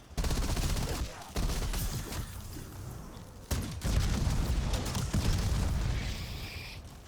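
Rapid gunfire in a Call of Duty zombies video game, including a GDL Havoc weapon, with dense sustained volleys broken by a few sharp blasts, loud and close throughout.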